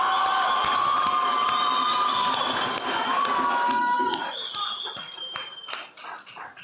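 A crowd at an Emancipation King and Queen competition claps and cheers loudly, with children shouting among the noise, gradually thinning into scattered claps and calls.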